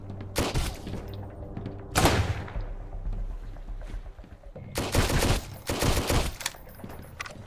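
Gunfire in the survival game Sunkenland during an assault on a large fortress, with bursts of rapid shots, loud and close, separated by brief lulls.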